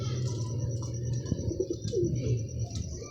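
Soft, low pigeon cooing repeats steadily at close range, with a few faint chirps and rustles mixed in.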